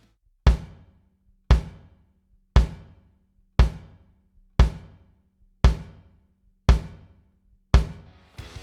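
A bass drum recorded with a Beyerdynamic M88 inside the shell and an MC740 further out, in a drum kit: eight evenly spaced, punchy, isolated kicks, each with a sharp attack and short boomy decay.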